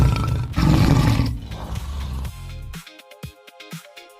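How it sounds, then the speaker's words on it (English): A tiger roars loudly and close, a deep rough bellow that swells and then trails off into fainter grunting breaths. "It's a tiger."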